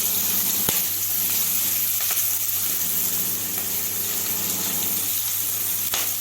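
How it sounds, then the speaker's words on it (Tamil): Onion and green chillies sautéing in a pan for veg corn rava upma, a steady close sizzle and crackle with a low constant hum beneath, a few soft clicks from stirring. "இது எல்லாத்தையும் நல்லா வதக்கி விட்டுக்கலாம்"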